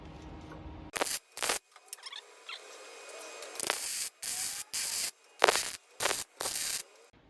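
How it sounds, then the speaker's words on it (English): Metal tack welds on a homemade boot hinge bender, a series of short sharp crackling bursts of roughly half a second each, about eight in irregular succession with quiet gaps between. "Just throw a couple of tacks on it."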